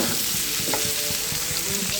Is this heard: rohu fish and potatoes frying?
yes